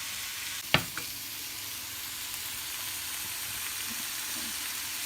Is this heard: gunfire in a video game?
no